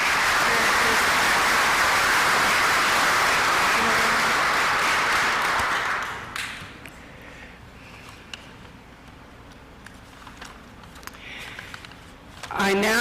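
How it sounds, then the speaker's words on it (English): A civic association audience at an award ceremony bursts into a loud, sustained round of applause that lasts about six seconds, then fades into quieter room ambience with scattered small noises. "Please join me in another round of applause."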